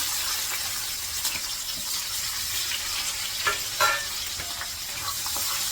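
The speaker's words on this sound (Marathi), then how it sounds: "कांदा परतायला टाकते" Onion frying in a pan for paneer curry, a soft, steady sizzle with a few louder crackles and occasional stirring scrapes, fairly quiet and with no talk.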